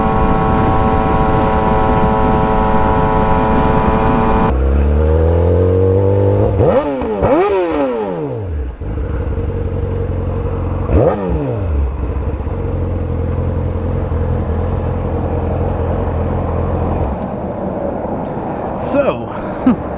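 A 2007 Yamaha R6 fitted with a full exhaust and Power Commander accelerates hard, its engine note climbing and dropping through several gear changes, loud and close, with a steady rumble between shifts.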